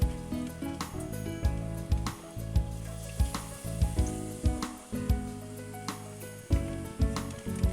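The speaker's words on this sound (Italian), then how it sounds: "Ok, ora passiamo alla frittura." Battered zucchini flowers fry in hot oil with a continuous close sizzle, punctuated by repeated knocks and scrapes as the pieces are moved around the pan.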